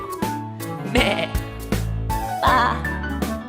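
Voices in a kindergarten farm-animal lesson imitate a goat's bleat, a few drawn-out nasal calls sung in a short rhythmic series, close and clear.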